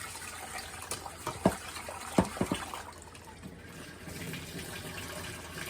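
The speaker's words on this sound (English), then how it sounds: "I rinse my rice like 3 times" Rice being rinsed in a pot, with water sloshing and swirling while the grains are swished, plus a few sharp clinks against the pot, fairly quiet and steady with no voices.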